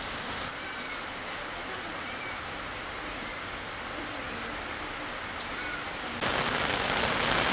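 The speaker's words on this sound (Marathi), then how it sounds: "आज पुन्हा एकदा तिथे पावसाला सुरुवात झाली आहे" A light drizzle falls in Sindhudurg district, a faint, steady hiss of rain that grows slightly louder toward the end.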